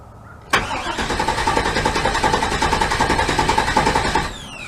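An old-body-style Chevy/GMC pickup engine cranks without catching after a coil and ignition control module replacement, a steady rapid starter chug running for about four seconds, loud and close, then cutting off abruptly.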